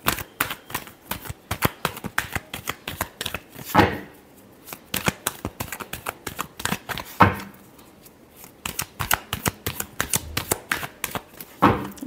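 A deck of tarot cards is riffled and shuffled over and over, crisp rapid clicks and flutters in bursts with short pauses, close and fairly quiet, no talking.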